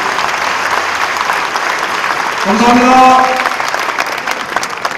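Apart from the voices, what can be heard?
assembly applauding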